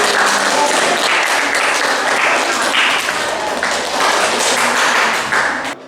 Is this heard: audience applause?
yes